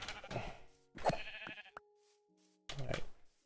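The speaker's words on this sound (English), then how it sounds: "Another sheep over there." Sheep bleating in Minecraft, three short nasal bleats spaced apart at moderate volume, with quiet game ambience between them.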